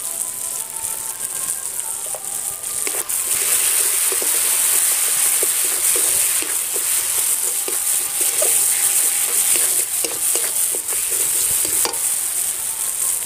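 Cashew paste, poppy seed paste and turmeric fry in a hot pan, a loud continuous sizzle with frequent sharp scrapes and stirring clatters close by and no talking.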